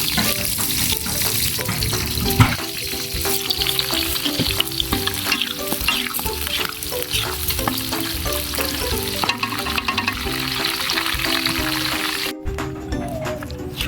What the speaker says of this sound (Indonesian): Kita goreng semuanya sampai matang.